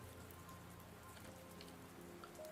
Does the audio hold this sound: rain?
yes